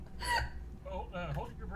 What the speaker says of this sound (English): She has hiccups and she can't stop them.